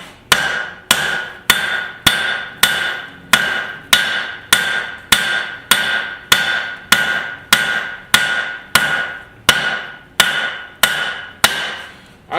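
Hot steel is hammered while forging the handle of a garden cultivator: a loud, ringing blow lands about every 0.6 seconds, more than twenty in an even rhythm.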